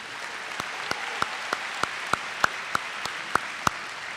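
An audience at the Hartfield Academy Upper School awards ceremony applauds student award recipients with steady, even clapping marked by a few sharper, regularly spaced claps. No voices are heard.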